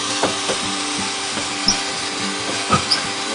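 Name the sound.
power drill drilling into an RV holding tank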